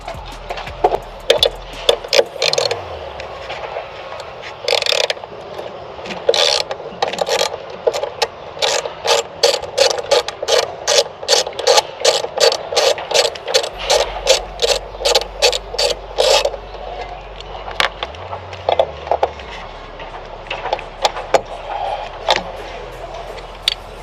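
A ratchet wrench clicks rapidly in repeated bursts while 10 mm screws are backed out during a Mishimoto oil catch can install on a car, close-up and steady with short pauses between runs.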